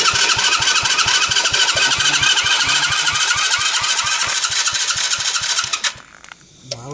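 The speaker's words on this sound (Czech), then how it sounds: "Ono točí, ale to ono nemá palivo, podle mě." A Jawa Babetta moped engine cranks repeatedly without catching, a fast steady mechanical chugging that runs loud and close for about six seconds before cutting off abruptly.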